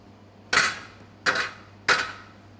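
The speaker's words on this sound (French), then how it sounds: "Tapoter pour enlever l'excédent farine." A floured metal mousse ring tapped three times, evenly spaced, to knock off excess flour; each knock is a sharp, close, ringing clank that fades quickly, with a low hum underneath.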